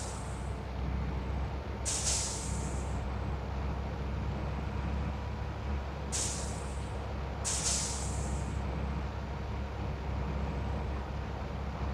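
A Scania K420ib 6x2 truck slows in a truck simulator game: a low, constant engine drone runs underneath while three sharp hissing air-brake bursts break through, one early on and two close together near the end.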